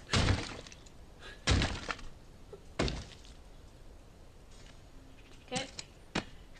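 In The Walking Dead: Saints and Sinners, a shotgun buttstock bashes at a barrier in a game: several heavy, close thuds with a breaking, splintering edge, spaced about a second or more apart, fading to fainter knocks.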